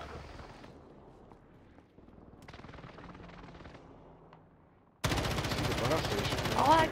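Video game gunfire comes in dense automatic bursts, muffled and distant at first and then much louder and harsher for the last couple of seconds, with no talk over it.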